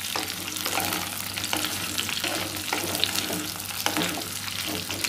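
Chopped tinda sizzles steadily in a pan over high heat while being stirred, with a constant frying hiss and occasional scraping clicks of the spoon, no voices.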